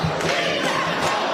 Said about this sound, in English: The crowd voicing their opinion, strongly opposing the addition of migrants in their community.